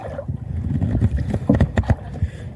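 A wooden paddle boat on the open sea gives off steady water wash and splashing from paddle strokes, close and loud, with breezy noise and no talking.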